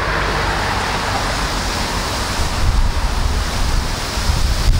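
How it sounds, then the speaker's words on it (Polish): Strong wind buffets the microphone at a shore during a fishing trip, a loud, continuous roar with gusts swelling toward the end and a broad wash like surf underneath. "Wieje strasznie. Strasznie wieje."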